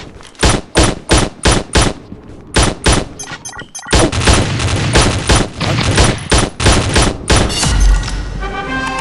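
Assault rifle fire in Pixel Gun 3D's realistic mode: a quick run of evenly spaced, loud, punchy shots, then a short pause, then a sustained dense burst of continuous automatic fire that rolls into heavier booming impacts.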